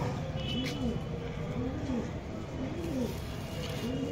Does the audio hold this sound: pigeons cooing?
yes